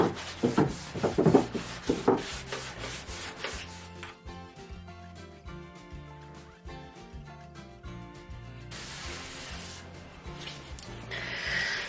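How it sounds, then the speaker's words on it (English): Wax being rubbed onto painted wooden furniture with a dish sponge: quick, rhythmic rubbing strokes, loudest at the start, then quieter steady rubbing with tonal background sounds underneath. "they just give a really, really good even coat of wax on the surface"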